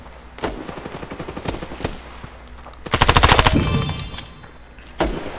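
Automatic gunfire in the mobile shooter Standoff 2: scattered single shots early on, then a loud rapid burst of machine-gun fire, ending with one sharp shot, with no talk.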